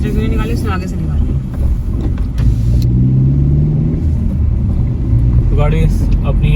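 Car driving along the NH48 highway, a loud continuous road rumble and engine drone with tonal swells from passing traffic, close and steady, with people talking over it.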